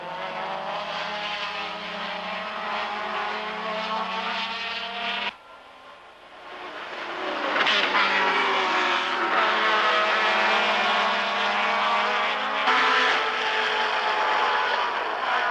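Can-Am race cars roar around the Lime Rock circuit in a 1985 Can-Am Challenge race, engines howling loudly as one car passes close with rising pitch, then a brief lull before another loud pass.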